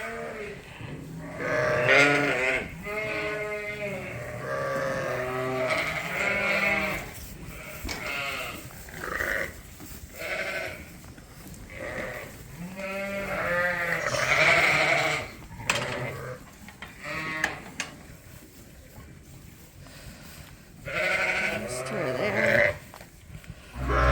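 Sheep and ewes in a pen bleat repeatedly throughout, several animals overlapping at close and middle distance, loud and continuous with short pauses.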